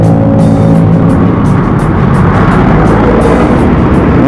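A bus passes at close range on a road, its loud, steady engine and exhaust roar filling the whole stretch without letup.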